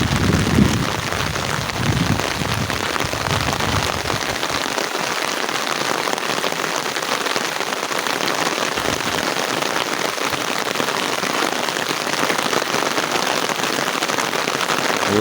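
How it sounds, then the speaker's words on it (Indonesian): Heavy rain pours over the Sundanese countryside of West Java, a dense, constant hiss of drops on surfaces, with a low rumble fading in the first few seconds and no voices. "Hujan makin deras."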